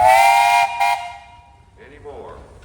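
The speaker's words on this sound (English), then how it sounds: "Hey, you got a whistle on there." A steam tractor whistle blows at a parade, a loud sustained tonal blast with a brief second burst, then fading into softer background noise and distant voices.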